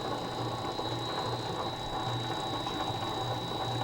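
A Predator XS stretch wrapping machine runs with a continuous, even mechanical clatter and rattle and a steady high whine throughout, with no speech.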